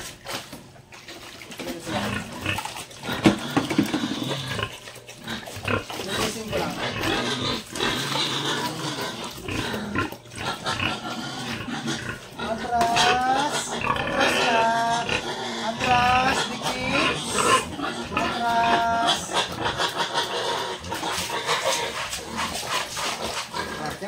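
A pig on a farm grunts and squeals in bursts at close range, with a person talking intermittently over the animal noises.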